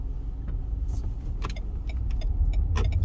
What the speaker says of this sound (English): letting this car pass by